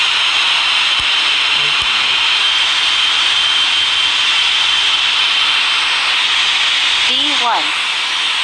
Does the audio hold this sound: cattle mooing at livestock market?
no